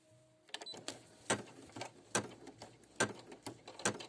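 A Brother PE800 embroidery machine stitches a face onto fluffy deep-pile fabric backed with water-soluble stabilizer for an in-the-hoop cat bag, producing repeated sharp clacks roughly once a second over a low mechanical hum.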